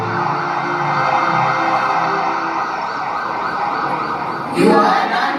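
An ambulance siren wails steadily and loudly through the whole stretch, staged during a student skit at a college, with a brief louder burst of noise near the end.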